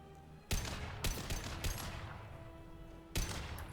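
Gunfire in the video game Mass Effect 2, several loud sharp shot bursts starting abruptly and trailing off into a rumbling reverberant tail, with a final burst near the end.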